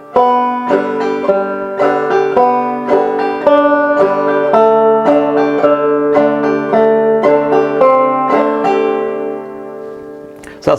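Clawhammer banjo plays the first part of Skip To My Lou in a Frailey strum, crisp plucked notes and brushed strums ringing close and loud, ending with a brief sound at the very end.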